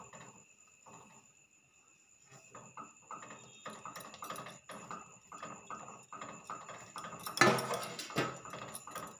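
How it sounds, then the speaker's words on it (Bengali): Semolina being stirred steadily into boiling milk in a pan, with a soft repeated scraping and clinking of a spoon against the metal, plus a louder clatter near the end. "কন্টিনিউ সুজিটাকে কিন্তু নাড়তে থাকবেন যাতে সুজিটার মধ্যে কোনো দলা না পাকিয়ে যায়"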